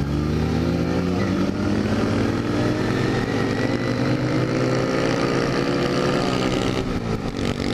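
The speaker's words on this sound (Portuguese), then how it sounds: "Aí nós tá de pop 100. Olha o barulho da ela." A Honda Pop 100 motorcycle engine runs steadily and loudly nearby, a continuous droning hum with harmonic tones holding throughout, no talking.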